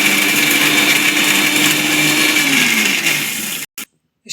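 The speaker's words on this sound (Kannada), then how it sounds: "ಮಿಕ್ಸಿ ಹಾಕ್ತೀವಿ" A mixer grinder grinds garlic, salt and chilli powder with a loud, steady whirring drone close by. The motor winds down and stops, followed by a couple of brief bumps and silence.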